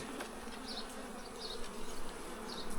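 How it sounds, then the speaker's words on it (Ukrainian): Honeybees drone steadily around an opened hive during an inspection, a continuous close buzz with individual bees passing near now and then, and no talking. "А ми зараз один із вуликів, мабуть, що цей розберемо і передивимося."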